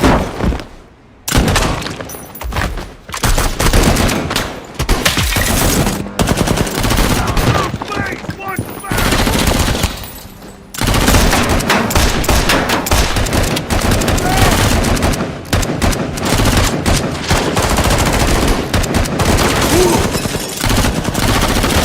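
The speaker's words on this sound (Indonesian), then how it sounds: "ternyata kelompok mereka sudah dikepung oleh para polisi hingga terjadilah baku tembak yang mengerikan" Movie shootout between gangsters and surrounding police: dense, loud bursts of automatic gunfire and single shots crackle almost nonstop, with brief pauses, a few booms and breaking sounds in the mix.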